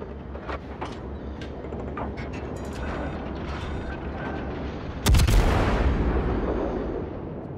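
Warship guns fire in the naval combat game World of Warships: a run of scattered sharp reports, then a heavy booming salvo that rumbles and slowly fades.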